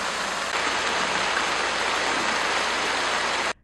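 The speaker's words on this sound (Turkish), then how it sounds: "Dere gece saatlerinde neredeyse taşma noktasına geldi." A creek in Dere Sokak, swollen after heavy rain, rushes in a dense, unbroken roar of fast water, loud and constant before cutting off abruptly near the end.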